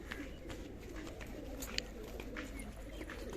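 Soft pigeon coos murmur through a steady outdoor ambience, faint and continuous with no one speaking.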